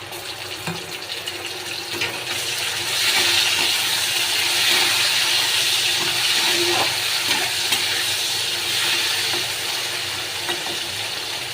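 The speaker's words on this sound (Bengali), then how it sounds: "এবার আমি টমেটোটা দিয়ে দেব।" Tomatoes hit a hot pan during a cabbage and potato curry with katla fish head, setting off a steady hiss and sizzle that swells after a few seconds, with a few faint clinks and no talking.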